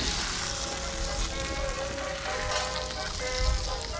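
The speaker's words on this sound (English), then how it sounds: "I can tell that they're crisping up." Trout crisping up in a disco pan outdoors, a dense, steady sizzle and crackle of frying oil filling the whole stretch, close and fairly loud with no talk over it.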